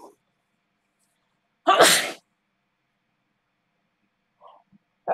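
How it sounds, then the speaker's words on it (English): One sharp, loud sneeze bursts out of near silence, close by, with faint small noises before and after. "I'm gonna sneeze"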